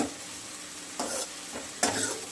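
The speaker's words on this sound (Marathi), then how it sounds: "हे टाकून मस्त आता तेल सुटेपर्यंत परतून घेणार आहे कांदा आणि टोमॅटो प्युरी" Onion and tomato puree sautéing in hot oil for a spicy dhaba-style rajma curry, giving a steady low sizzle broken by two or three brief louder scraping stirs, close by with no talking.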